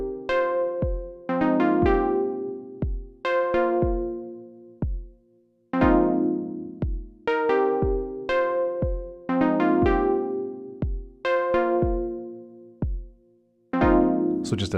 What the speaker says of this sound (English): synth patch over a gentle kick drum.